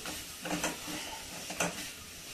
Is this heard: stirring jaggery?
yes